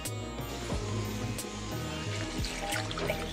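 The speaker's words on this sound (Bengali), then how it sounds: "তরকারি কাটা হয়ে গেছে, এবার ধুয়ে নেব।" Chopped vegetables and green chillies being rinsed in water, with steady running and splashing close by and a few sharper knocks of handling throughout.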